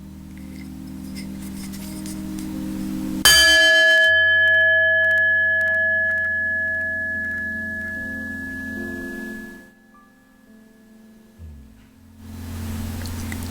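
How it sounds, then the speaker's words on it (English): A bell is struck with a sharp attack and rings out in a clear, sustained tone that slowly decays over several seconds before fading, with soft room noise before and after. "Now I'm going to ring a bell with varying tones."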